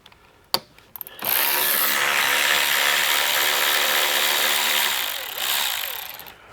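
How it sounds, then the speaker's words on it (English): A power tool, likely an impact wrench or drill, runs steadily for several seconds while removing a Wilwood brake caliper from a C5 Corvette wheel hub. It is loud and close, after a sharp click at the start, with no talk. "let's get this brake caliper off"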